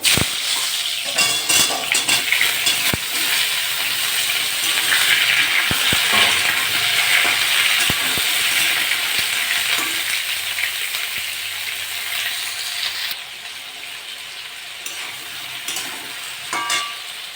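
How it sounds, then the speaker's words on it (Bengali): Ridge gourd frying in hot mustard oil in a kadai, a loud, continuous crackling sizzle with scattered stirring clicks and scrapes, easing slightly toward the end. "তেলটা গরম হয়ে গেছে এবার ঝিঙে দিয়ে দেবো"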